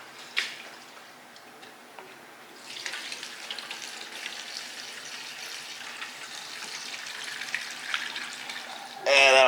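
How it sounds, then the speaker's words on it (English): Non-ethanol gasoline is poured into the fuel tank of a vintage Briggs & Stratton engine, making a soft, steady liquid rush that starts after a brief clunk and runs on quietly, ending in a louder knock. "So we're going to put some non-ethanol gas in it"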